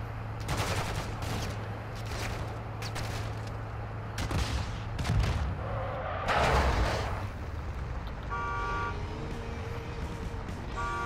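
Bursts of automatic gunfire crack through a video game battle at a hydroelectric site, loud and repeated over a rumbling engine hum, with an electronic beeping near the end.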